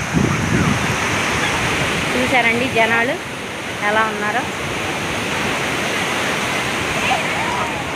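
Sea waves at Suryalanka beach on a busy summer day, a broad continuous wash of surf with a brief voice speaking over it and distant crowd noise.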